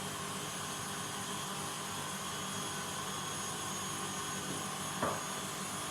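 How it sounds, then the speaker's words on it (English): Electric stand mixer whisking egg whites for vanilla latte meringue kisses, giving a constant loud whirring drone that holds steady throughout, with one brief knock near the end. "Sorry about the noise of the mixer, nothing I can do about that."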